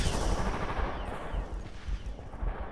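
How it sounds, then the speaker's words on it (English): Sustained automatic gunfire in the Killzone 2 video game, a loud, dense stream of rapid shots running through the whole stretch with no pauses. "got killed by a goddamn automatic gun again"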